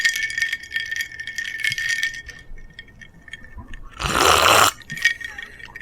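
A vodka bottle is handled closely in a basement for ASMR, with glassy rattles and clinks scattered throughout and a louder rushing glug or slosh partway through, no talking.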